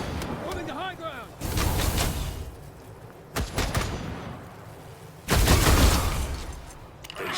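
Squad gunfire in Wasteland 3 combat arrives as several separate loud volleys with pauses between them, including a heavy closing burst, with voices calling out among the shots.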